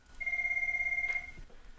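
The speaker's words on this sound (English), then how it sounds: "You could probably hear that ringing in the background." A VoIP desk phone at extension 2000, a Cisco 7940, rings in the background with one sustained electronic tone lasting about a second, moderately quiet, followed by a brief low thump.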